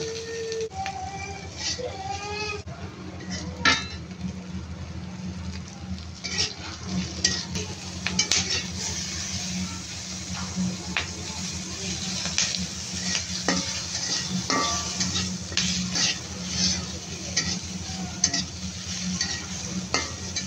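Garlic, chillies and salt fry in oil for a shrimp bharta while being stirred, a soft continuous sizzle with frequent scraping and clinking of a utensil against the pan.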